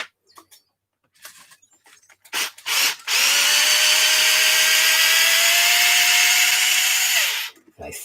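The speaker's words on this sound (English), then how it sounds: "So 2 more forward screws on that top plate." A small power screwdriver or drill spins out top plate screws on an Arrma Mojave 6s BLX RC car, a few short bursts and then a sustained high whir of several seconds, close and loud.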